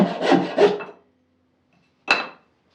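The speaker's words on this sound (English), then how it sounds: "you can continue sawing along your pattern, however complex it might be at the end of the day" A handmade bow saw cutting along a pattern in a piece of wood by hand: a close burst of three quick rasping strokes, a pause, then one more short stroke.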